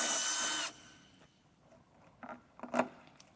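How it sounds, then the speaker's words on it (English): A power drill boring a hole while installing a Quickfit rectangular diverter, a brief loud whine that cuts off, followed by a few faint clicks and handling knocks. "so first I'm going to drill my hole in there."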